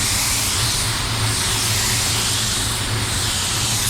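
A paint spray gun, a Wacom HC clear 1.2 motivated pedals edition, sprays at 31–32 psi, giving a loud, steady, unbroken airy hiss throughout, close up.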